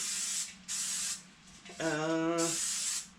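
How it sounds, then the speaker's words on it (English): Short hissing bursts of an aerosol coconut oil cooking spray coating a bundt pan, several quick sprays close up, with a brief rising whine in the middle. "spray it really good. I use coconut oil spray"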